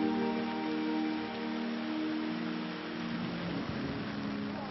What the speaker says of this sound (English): desert training is halted yet again by torrential rain